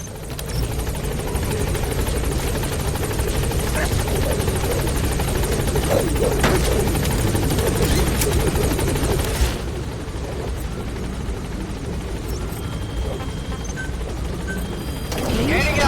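Helicopter Pequod from the video game Metal Gear Solid V: The Phantom Pain, a steady loud rotor drone with mechanical whir running throughout, with faint game sounds and background voices under it.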